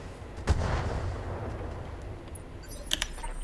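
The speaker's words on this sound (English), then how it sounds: "Firing on target." Mech weapons fire in a modded Battletech (Roguetech) battle: a heavy booming shot lands first, then a rolling rumble, and a sharper crackling volley follows near the end. No one speaks.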